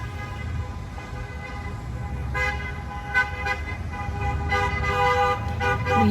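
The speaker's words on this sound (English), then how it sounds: "We hear the honking noise of a wedding procession driving through the streets of" Car horns from a wedding procession driving through the streets of Fairbanks, several toots and honks at mid distance over steady traffic rumble, growing more frequent toward the end.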